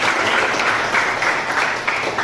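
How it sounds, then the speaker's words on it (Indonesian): Classroom applause from students, a steady, fairly loud burst of clapping with no talk. "Jadi bisa nggih tepuk tangan."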